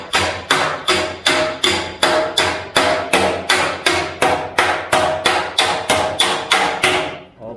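Hammer tapping out a dent in a steel body panel of an Austin Healey, a rapid even series of about twenty sharp metallic blows, close and loud, with no talk.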